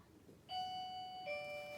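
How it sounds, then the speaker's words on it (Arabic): A two-tone doorbell chimes indoors, one clear note followed by a lower second note, close and distinct against a quiet room with no voices. "جرس الباب بيرن، مضطر ان انا افتح."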